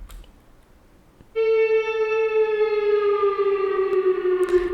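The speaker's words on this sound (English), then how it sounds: "So this is an electric guitar with a slide." A processed electric guitar played with a slide enters after a quiet moment and holds a single rich, sustained tone. The note sags gently downward and takes on a siren-like, swelling character.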